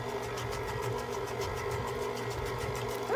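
An electric mixer beats shortbread cookie dough with eggs added, producing a steady, even motor whir with a faint rhythmic pulsing throughout, close and moderately quiet, with no talking.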